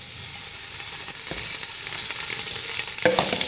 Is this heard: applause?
no